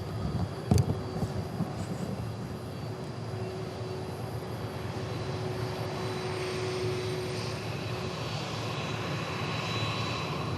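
A jet airliner passes overhead at night at DFW International Airport, its broad engine roar steady and sustained throughout, with a brief knock near the start and no talk.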